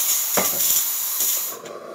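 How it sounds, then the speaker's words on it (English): The steamer wand of a De'Longhi Magnifica espresso machine releases a loud, continuous hiss of steam with a few bursts and sputters, fading slightly at the end after repair and tune-up. "the pressure coming out of the steamer increases, and we have that beautiful steam as you see right here"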